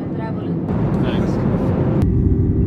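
Steady, loud airplane cabin rumble during landing, a broad continuous roar with shifts in tone, while a voice speaks over it.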